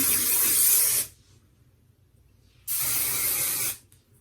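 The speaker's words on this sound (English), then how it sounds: "So I'm gonna spray this side." Two long hissing bursts of aerosol hair spray, each about a second, close up with a short silent pause between them.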